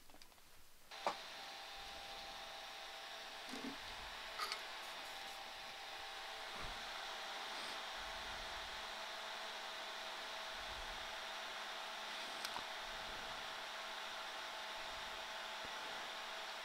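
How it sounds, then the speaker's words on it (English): Electric fan switched on at a soldering bench to pull smoke away from a circuit board, giving a steady airy whir that holds throughout, with a few faint clicks and knocks of handling near the start and scattered later. "so we'll get this fan turned on."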